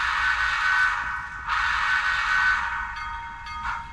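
A SoundTraxx Blunami decoder in a model train locomotive plays chuffing, hissing locomotive sounds with a tonal whistle-like hum as the throttle opens. The sound swells and fades in surges, loud and close, with no talking.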